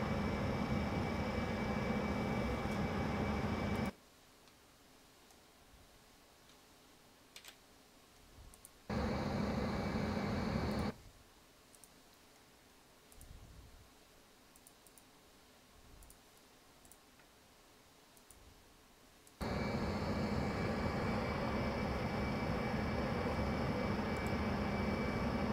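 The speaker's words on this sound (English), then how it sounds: "It's a long taxi to the runway." Bombardier CRJ200 regional jet taxiing slowly in a flight simulator, a steady engine whine and hum that cuts out abruptly twice into near silence with faint clicks, then returns at full level.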